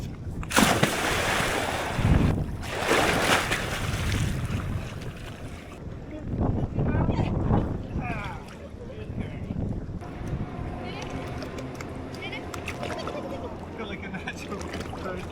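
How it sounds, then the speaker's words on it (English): Wind buffets a microphone beside an emptied lake in rural Japan, steady gusty rumble swelling loudly at times, with people talking over it and water lapping faintly beneath. "it's pretty windy now"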